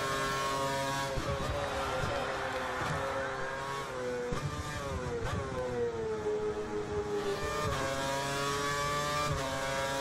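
Red Bull Formula 1 car accelerating with its DRS open, a high whining engine note climbing and shifting through gears, loud and continuous with other race cars blending in.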